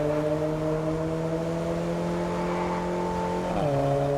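Renault Alpine A110 engine droning steadily while driving in the racing game Test Drive Unlimited Solar Crown, a smooth harmonic hum that drops in pitch near the end as the car shifts or eases off, no voices.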